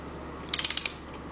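Ratchet clicking rapidly about seven times while tightening bolts on a 2006 Kia Sportage 2.7 engine during a rebuild, a short close burst of sharp clicks in an otherwise quiet shop.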